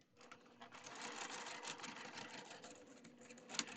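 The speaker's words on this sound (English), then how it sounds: "I'm going to take this over to the machine and I'm going to do a 1/4 inch seam allowance from top to bottom" A sewing machine runs steadily, stitching a quarter-inch seam from top to bottom while piecing a Shoo Fly quilt block, a continuous close mechanical whir with no pauses.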